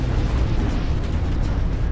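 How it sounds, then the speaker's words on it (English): A massive commander explosion in the strategy game Planetary Annihilation, a loud, sustained low-frequency rumbling blast that fills the whole two seconds with dense boom and debris noise. "He's going down. He's off. He's done. Everybody move out of the way. The massive explosion."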